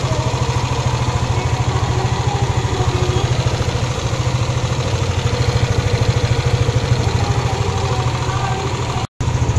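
A Yamaha Aerox 155 V1 scooter engine, recently given fresh engine oil and coolant while being checked for a ticking noise, idles steadily with a fast, even pulsing chug up close, briefly cutting out near the end.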